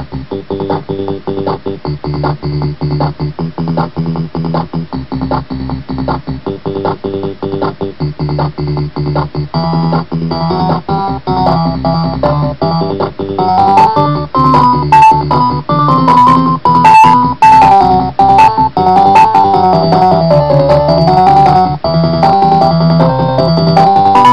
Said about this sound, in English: it's playing on 4 different channels with octaves and an echo